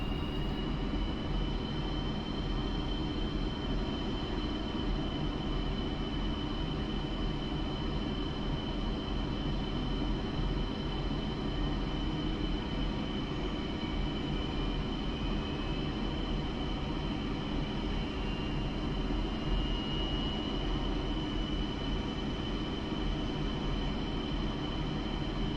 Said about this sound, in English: we can start the right or number 2 engine